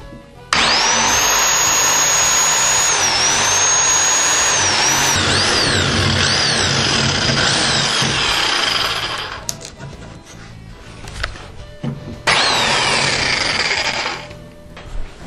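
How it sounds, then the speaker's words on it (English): A Sawzall reciprocating saw fitted with a steel blade makes a slow cut into a log for a hand rail coupling, a loud buzzing rattle for about nine seconds, then a few brief knocks and a second shorter burst of cutting. "I'm going to use a Sawzall and I'm going to use a steel blade just so that I can get a nice fine slow cut"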